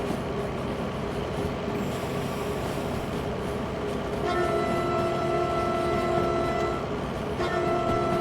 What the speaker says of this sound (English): We are underway with our double train.